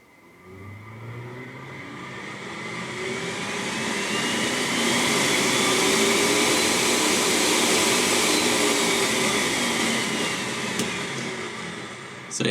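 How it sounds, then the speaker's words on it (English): A custom-built heater fan blows hard inside a Vespacar P2 three-wheel car, a steady broadband whoosh that swells after switch-on and holds loud and constant, ending with a click. "You hear the fan."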